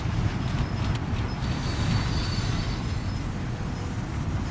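A monorail train in Death Stranding 2 runs steadily along its line with a continuous rumbling, rolling drone and faint high squeal, close and loud with no talking.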